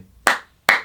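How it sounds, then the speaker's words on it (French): Two sharp, fleshy hand slaps on buttocks about half a second apart, close and loud, with brief silence between them. "C'est le bruit des claques que t'es en train de lui mettre sur le cul à ta copine"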